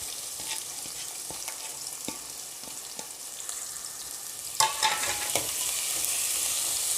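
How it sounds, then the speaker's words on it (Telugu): Chopped onions and green chillies sizzle steadily in hot oil in a pan for a home-style chicken curry, with scattered clicks of a spoon stirring and a brief louder burst of crackling partway through. "ఇప్పుడు ఉల్లిపాయలు ట్రాన్స్పరెంట్గా అయ్యేంత వరకు కలర్ చేంజ్ అయ్యేంత వరకు వేయించుకుందాము"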